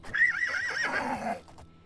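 A horse whinnies loudly and close in a video game, one drawn-out neigh with a wavering pitch that trails off after about a second and a half.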